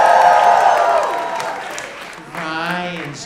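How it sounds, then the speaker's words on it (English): A studio audience claps and cheers for a contestant named Ryan on a dating show, the applause swelling under voices of people talking over it before fading and briefly picking up again. "Clap it up for him."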